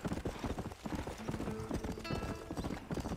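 Horse hooves clip-clop in the Red Dead Redemption video game, a quick steady rhythm of close hoofbeats with a brief neigh or whinny partway through.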